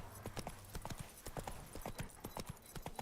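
Horse hooves clip-clop at a steady trot in the open-world fantasy game The Witcher 3, a run of sharp, evenly spaced hoof strikes heard close and clear with no talking over them.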